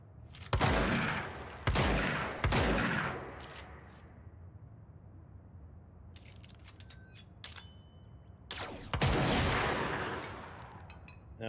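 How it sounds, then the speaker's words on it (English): Gunfire in the video game Control, heard as three dense bursts of shots early on, then quieter interface clicks and a chime, then another long loud burst toward the end. "Shooting it doesn't do anything."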